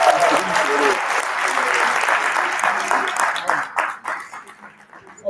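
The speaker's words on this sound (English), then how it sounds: "Give another round of applause." Loud applause from a workshop audience in Soweto fills the room steadily, then thins into scattered claps and fades toward the end.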